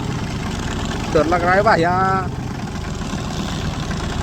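A tractor engine idles steadily and close by throughout, a continuous low rumble, while someone speaks briefly over it in the middle.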